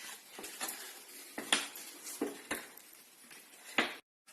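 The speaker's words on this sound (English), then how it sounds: "Give that a quick stir please" Baking powder being stirred into cake batter for a jam cake, a series of separate clinks and taps of a spoon against the bowl, fairly quiet and close, with no talking.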